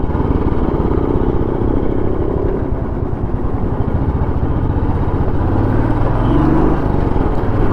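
A Royal Enfield Classic 350 motorcycle ridden through city streets, its steady engine thump loud and continuous throughout, with road and wind rumble filling the low end and no talking.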